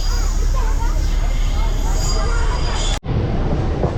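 A local train pulling out of Raghunathbari station on the mostly single line toward Digha, heard as a loud, steady rumble with wind and carriage noise throughout and a brief dropout near the end.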